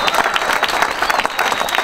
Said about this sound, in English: I want a round of applause for a young man here, Dominic over here, that's holding the fort